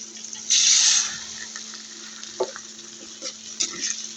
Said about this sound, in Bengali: এখন আমি এর মধ্যে দিয়ে দিব একটু পানি।